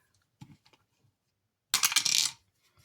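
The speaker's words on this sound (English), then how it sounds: "We're using our 4-sided dice and rolling. So let's go ahead and roll a couple." Two four-sided dice are rolled, first a few faint clicks and then a sharp clattering burst as they tumble and settle, fairly close in a quiet room.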